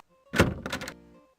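Quest for Glory IV: Shadows of Darkness, a hollow wooden knock on a door, one heavy thud followed by a quick pair of raps, close and clear with a short decay.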